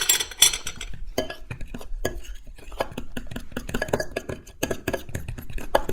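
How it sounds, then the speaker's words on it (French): Kimchi pancake batter ingredients, with scallion, garlic powder and black sesame, are mixed in a bowl, a busy run of close utensil clinks and scrapes against the bowl, no talk. "On remélange tout ça un petit coup."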